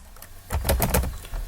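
A short burst of keystrokes on a computer keyboard typing a UNIX put command, a quick cluster of crisp clicks rising over a quiet room, close by with no talk.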